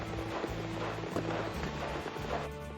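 Horse hooves clip-clopping at a walk in the Western tactics game Hard West 2, with steady soft thuds under a layer of background game music and ambience.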